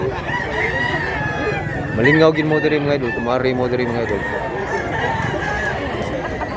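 Amid a packed chicken market in Mantalungon, Cebu, a nearby rooster gives a loud crow in the middle as others call faintly around it, with someone talking throughout.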